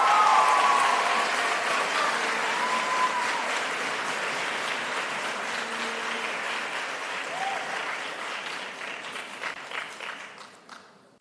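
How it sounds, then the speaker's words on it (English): Audience at a graduation ceremony giving a round of applause, a steady wash of many hands clapping in a large hall that slowly tapers off, with a few faint voices under it. "A round of applause for Martina Guisado Moraleda."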